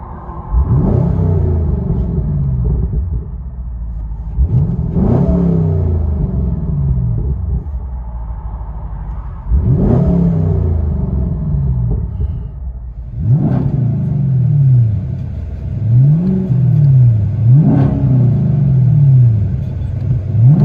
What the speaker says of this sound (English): FLOWMASTER Outlaw, 5-inch tips. Let you guys hear it on the inside.